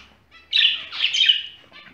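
A caged pet bird lets out a loud, shrill burst of chirping calls, close by, lasting about a second and a half.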